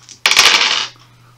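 Four dice rolled at once onto a table during a Shadows of Brimstone board game, a single sharp rattling clatter that settles within about half a second and then goes quiet.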